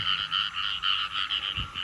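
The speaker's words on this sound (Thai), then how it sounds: "นี่ครับ กบ" Several frogs croak in a steady, pulsing chorus of repeated calls, fairly close and continuous, with a brief low thump near the end and no talking.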